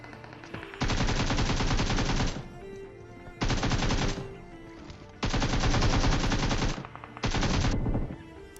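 Automatic gunfire in a shooting video game, with four long, loud bursts of rapid shots separated by short gaps, heard alone.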